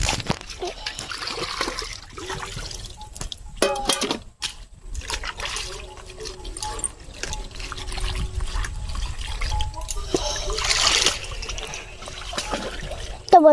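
Water running and splashing as freshly cut vegetables are washed in a village home in the Sundarbans, a steady close-up trickle with irregular splashes and clatters throughout, and a brief louder gush near the end.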